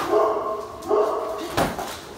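A dog named Chi-Chi gives several close, loud barks and whimpering yips in quick succession, with people talking around it.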